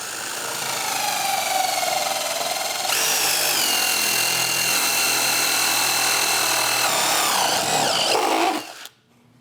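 A Milwaukee drill accessory bores a hole through a piece of PVC, a loud, steady power-tool whine that steps up in pitch partway through and runs continuously for several seconds before cutting off abruptly.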